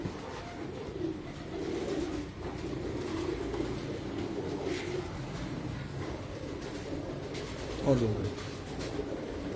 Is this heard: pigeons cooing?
yes